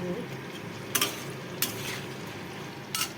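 Pointed gourd with turmeric and green chilli fries in a pan with a low steady sizzle, broken by three sharp scrapes of a utensil stirring against the metal.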